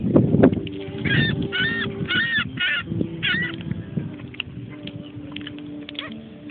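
Seagulls call while being fed, a burst of harsh, honking squawks in quick overlapping clusters near the start, then sparser calls over shuffling and low background rumble.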